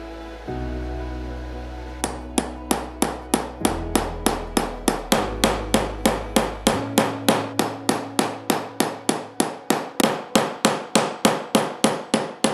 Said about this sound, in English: How long does it take you to do this hand hammering process on a Pocket Master?